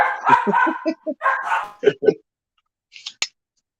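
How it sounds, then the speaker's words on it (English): A dog barks in a quick series of sharp, close barks, followed by a brief high yip after a short pause. "We've had worse than a barking dog up here."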